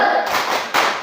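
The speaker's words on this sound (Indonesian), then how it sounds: "Mari kita tepuk salut untuk dia." Classroom of students clapping for a classmate, a short, close burst of claps with a sharp accent near the end.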